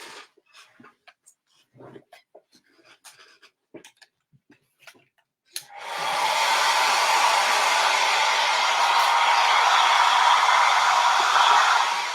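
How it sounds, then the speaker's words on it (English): After a few seconds of faint tapping and quiet rustling, a hair dryer switches on and blows loudly and steadily until the end. "I'm going to get my hair dryer again"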